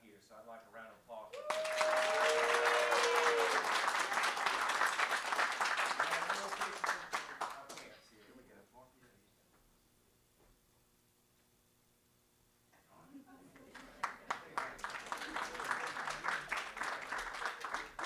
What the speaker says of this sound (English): So I'd like a round of applause